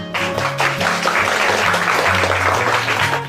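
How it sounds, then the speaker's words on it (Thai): Classroom applause for a student who answered correctly, a quick patter of children's claps with a low hum and voices running underneath. "ปรบมือให้เพื่อนหน่อยค่ะ"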